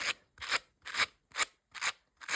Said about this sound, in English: we're going to brush out the yarn, literally